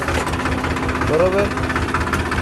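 A tractor engine idles steadily at a bungalow construction site, a constant low mechanical drone running underneath people talking nearby.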